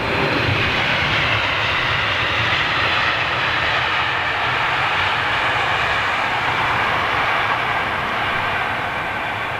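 An airliner arriving at London Heathrow makes a steady, loud jet roar that fills the whole stretch with no break, a broad rushing drone with no voices.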